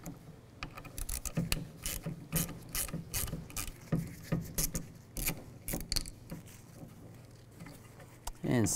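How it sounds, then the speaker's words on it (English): A ratchet driving a T15 socket backs out the three tailgate handle screws on a 2007-2013 Chevy Silverado 1500, giving close, irregular bursts of rapid pawl clicking with short pauses between strokes. "Now I'm going to use a T15 socket and take these screws out."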